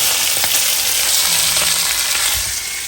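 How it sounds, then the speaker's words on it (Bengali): Steady crackling sizzle of fish frying in soybean oil, loud and close, with a faint low hum and a brief tonal whine partway through. "এখানে মাছ ভাজা হচ্ছে"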